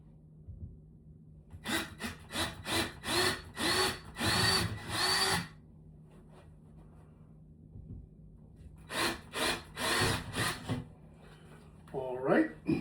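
Power drill with a 1/2 inch bit boring holes into a wall while hanging a TV, two bursts of loud pulsing whine separated by a quiet pause, close up, with faint breathing.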